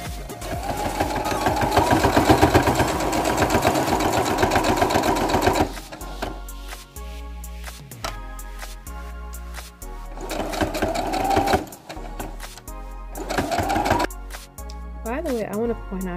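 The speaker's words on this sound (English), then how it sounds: "I want to point out I have a Brother sewing machine" A Brother sewing machine whirs rapidly through a long run of stitching, then stops; a person talks over sparser bursts of stitching afterward.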